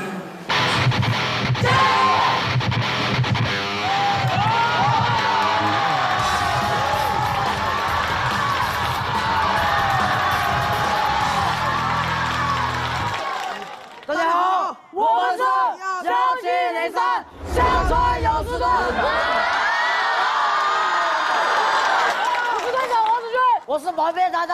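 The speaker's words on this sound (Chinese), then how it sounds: "来，给你们个掌声。" A school crowd at a girls' basketball team introduction whoops and shouts in loud, overlapping cheers. The cheering breaks off abruptly partway, then a few raised voices return before the noise swells again.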